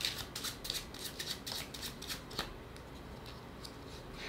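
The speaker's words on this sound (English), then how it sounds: "I'm going to pull three playing cards here." Playing cards are pulled from a deck, giving a quick series of soft, crisp flicks and snaps for about two seconds, then quiet, faint and close.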